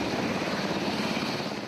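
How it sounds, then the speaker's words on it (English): Helicopters carrying American troops to the airport give a continuous, broadband rotor and engine roar, loud and unbroken for a short stretch with no talking. "American troops enter helicopters for the flight to the airport and home"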